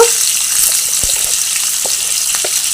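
Potato pieces frying in hot oil for katla fish curry, a steady bright sizzle with faint occasional pops, close and continuous with no talking.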